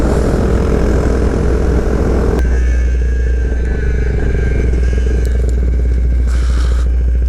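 Honda Grom fitted with a swapped-in CBR engine, riding along with a steady, loud engine drone and wind rush throughout, with a gear change or throttle shift partway through.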